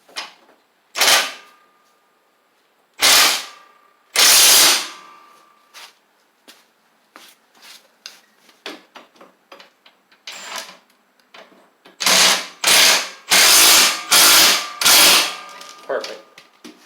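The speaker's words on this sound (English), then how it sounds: "I think I got to tighten up those 9/16 for the axle" A ratchet tightening 9/16 axle bolts on a Craftsman LT1000 riding mower, loud bursts of rapid clicking strokes separated by quieter pauses and lighter taps, with a run of repeated ratcheting near the end.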